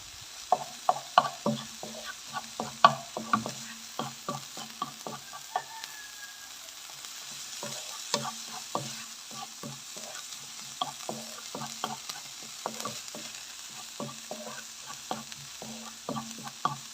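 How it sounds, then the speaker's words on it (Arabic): Food fries gently in a pan while a utensil stirs it, producing repeated sharp scrapes and taps against the pan over a quiet, steady sizzle. "غنحرك الكل جيدا"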